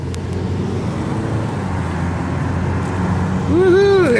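Car traffic while driving through Chicago, with a continuous road rumble and engine noise inside the vehicle and a rising tonal whine near the end.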